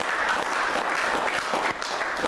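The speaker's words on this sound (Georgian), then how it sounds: "კიდევ ერთხელ აპლოდისმენტები." A brief burst of full audience applause at a book presentation evening, thick continuous clapping that dips slightly near the end.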